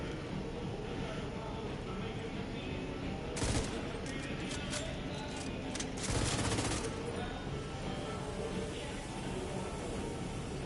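Video-game gunfire at targets, a steady dense clatter of rapid shots running throughout, with heavier bursts swelling twice, alone with no talk.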